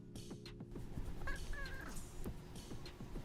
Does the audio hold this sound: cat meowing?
yes